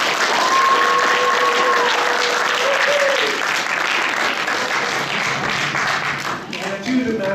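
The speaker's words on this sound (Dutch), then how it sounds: "Dus ik vind nog een keer een applaus." An audience claps loudly and steadily for the finalists of a national children's reading-aloud contest in Hardenberg, a continuous crowd of hands that tapers slightly near the end, with a voice speaking over it.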